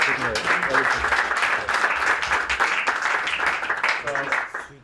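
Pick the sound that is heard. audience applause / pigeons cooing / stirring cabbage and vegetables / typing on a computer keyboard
audience applause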